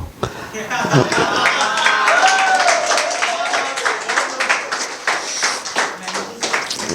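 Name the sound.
audience clapping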